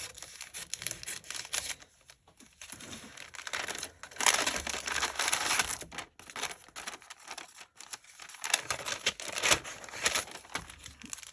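Scissors and crinkling plastic as a sticker package from a Shine Sticker Studio unboxing is cut open, a steady near crackle and rustle in bursts with brief pauses, no speech.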